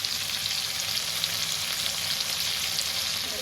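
Fish frying in a pan of hot oil for a homemade Sambalpuri fish curry, a steady, close, broadband sizzle that holds evenly throughout with no talking.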